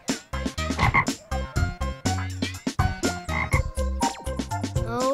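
A frog croaks loudly and close by in a rapid, irregular series of deep, throaty calls with no one talking.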